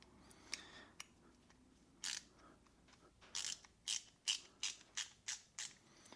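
Quick clicking bursts of a Klein ratcheting T-handle driving a machine screw, close and crisp, a sparse few clicks first, then a steady run of repeated ratchet strokes.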